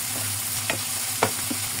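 Garlic frying in cooking oil in a pan, a continuous close sizzle with a few soft stirring scrapes on top, no speech.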